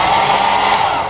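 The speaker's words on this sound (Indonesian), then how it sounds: "Jadi di sini tersedia hair dryer" A hotel-room hair dryer blows in a steady, loud, continuous whoosh, close by and alone, with no talk over it.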